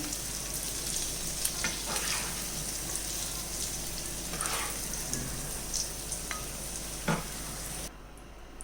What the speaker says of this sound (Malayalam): നമ്മുടെ പനീറൊക്കെ വറുത്ത് കോരി മാറ്റിയിട്ടുണ്ട്.